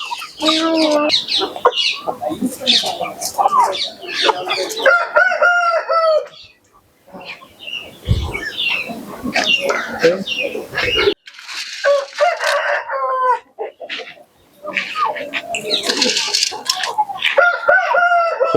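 Peruvidai country chickens on a farm: a rooster crows loudly and repeatedly, with hens clucking close by between the calls and brief quieter gaps.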